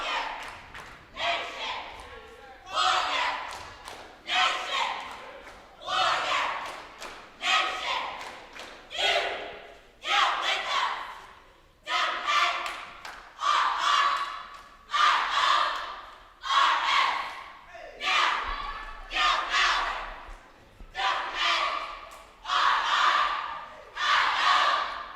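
Cheerleading squad at a competitive cheer semifinal shouting a rhythmic chant in loud, evenly spaced bursts, each phrase punched out together with brief pauses between, filling a large echoing gym.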